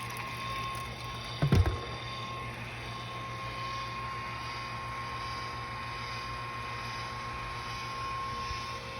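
A pump recirculates wort through an all-grain homebrew vessel system, giving a steady low hum and hiss throughout, with one brief knock early on.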